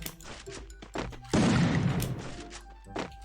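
Shotgun blasts in the Free Fire video game: a few sharp shots, then one heavy, loud burst with a short rumbling tail, among fainter game effects.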